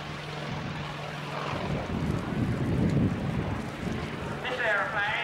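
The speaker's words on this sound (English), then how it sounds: "This is the Vought Corsair, the Bent Wing Bird as it was called." A Vought Corsair, the bent-wing World War II naval fighter, flies at an air show, its broad engine drone swelling to a peak and easing off while an announcer talks over it.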